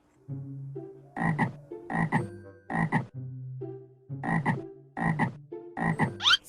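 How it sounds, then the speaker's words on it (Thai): Frogs croaking in a natural outdoor setting, a steady sequence of loud, close pulsed croaks in repeated bursts with short gaps, sounding alone without talk. "เสียงกบ"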